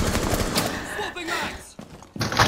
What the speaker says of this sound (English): Stop firing your fucking weapon.